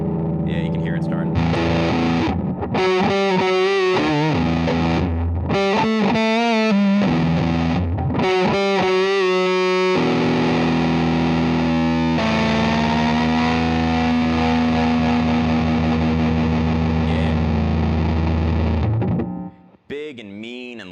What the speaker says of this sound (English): It's the loudest, the angriest, the sort of roughest, toughest sounding fuzz in the bunch